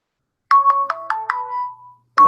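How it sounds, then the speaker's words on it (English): A Google Hangouts incoming-call ringtone plays a quick run of five bright, descending chime notes, loud and close, then the first note starts again. "that's the sound of the irritating sound of the Hangout ringer"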